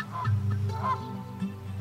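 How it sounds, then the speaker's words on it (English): Brant geese honking in a spring wetland on northern Vancouver Island, a dense overlapping chorus of calls from a sizeable flock, steady and moderately close throughout. "brant geese arrive by the thousands"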